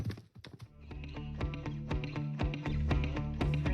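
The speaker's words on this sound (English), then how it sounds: "Invisible horse." Horse sounds in a Nintendo Switch 2 presentation: loud, close, irregular hoof clops and thuds that build in density, with a neigh-like sound among them.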